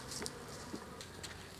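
Honeybees being rescued and boxed make a close, continuous buzzing hum with small swells as individual bees pass near, faint overall and with no one talking.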